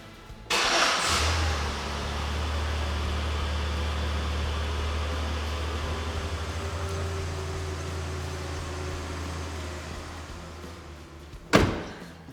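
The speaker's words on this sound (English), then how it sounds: "The engine is going to idle for 3 minutes while it relearns the proper throttle setting" A Chevy Impala engine starts and settles into a steady idle during a throttle relearn after a new throttle body, low even drone throughout, closing with a sharp thump like a door.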